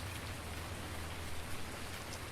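Steady rain falls on a farm in a dense, even hiss with a low rumble underneath, and no voices.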